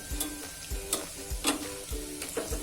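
Corn muthiya dumplings crackle in hot oil under a steady hiss, with soft rhythmic clicks and bubbling bursts repeating about twice a second.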